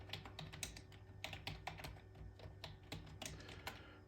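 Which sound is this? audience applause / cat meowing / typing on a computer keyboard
typing on a computer keyboard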